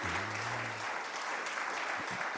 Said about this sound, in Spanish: Le damos un aplauso de bienvenida a estos hermanos que vienen